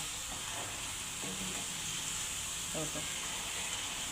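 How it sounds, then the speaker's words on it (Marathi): Egg masala fries in oil on a tawa over a low flame, the oil separating from the spices, with a quiet, steady sizzle and a few faint stirring scrapes. "चांगला फ्राय होऊ द्यायचा मसाला."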